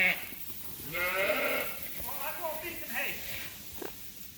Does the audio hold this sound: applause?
no